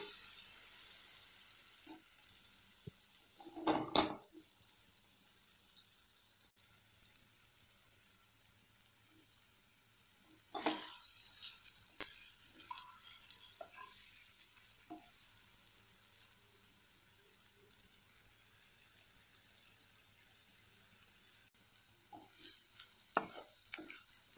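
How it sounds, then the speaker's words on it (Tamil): Paneer pieces fry lightly in a pan with a quiet, low sizzle, broken by a few sharp clinks and scrapes of stirring. "இதை லேசாக ஃப்ரை பண்ணி எடுத்துக்கோங்க"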